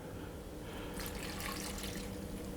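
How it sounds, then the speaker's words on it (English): Brandy poured over dried mixed fruit, chopped prunes and glacé cherries, a soft steady liquid trickle with faint splashing, quiet and close, heard alone. "And I'm going to pour in"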